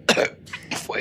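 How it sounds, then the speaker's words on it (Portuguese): Two short, sharp coughs close up, separated by a brief pause. "Foi real essa tosse."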